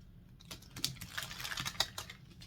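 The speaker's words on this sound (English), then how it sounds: "let's go ahead and shuffle the cards for you" Tarot cards being shuffled by hand, a quiet run of soft, papery riffles and taps with a few sharper snaps, close to the microphone and steady for a couple of seconds, with no talking.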